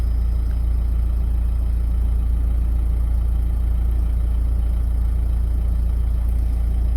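A Nissan/Renault diesel engine with nearly 230,000 on the clock idles, producing a steady, unbroken low hum and rumble throughout at a constant level, with no voices.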